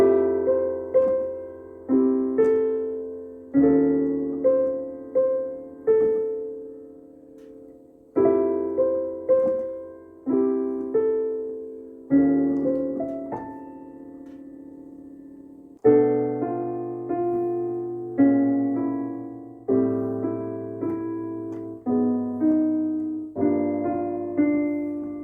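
Solo piano plays the first part of a song as slow, sustained chords with low bass notes, each struck clearly and left to ring and decay, with brief pauses between phrases.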